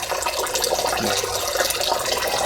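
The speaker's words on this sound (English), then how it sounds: "It's refilling now with my water heater." A water heater refilling, with a steady, loud rush of flowing water and hissing from nearby pipes that continues without a break.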